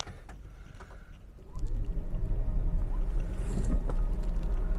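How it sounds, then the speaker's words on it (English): A 2024 Nissan Kicks e-POWER engine cranks and catches, jumping from a quiet background to a steady, close idle rumble that holds to the end. "Let's fire up the engine."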